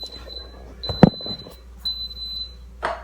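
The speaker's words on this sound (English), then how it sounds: "that beeping means it's working" An Instant Pot pressure cooker gives a few high, thin electronic beeps at intervals, one held tone near the start and another after a gap, over faint background rustle and a single louder knock.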